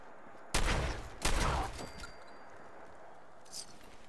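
Gunfire in the video game Fallout 4: two loud bursts of shots in quick succession, each lasting about half a second, followed by a fainter pop.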